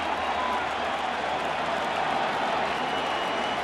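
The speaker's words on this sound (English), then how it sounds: "And this crowd is having fun here in the second." A large crowd roars and applauds continuously at a Giants vs. Royals World Series game in a baseball stadium, a dense, distant wash of cheering with no clear break.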